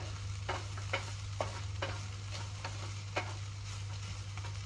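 Fried rice frying in a pan and being stirred, a constant low sizzle with regular scraping strokes about every half second, close and fairly quiet with a steady low hum underneath and no voices.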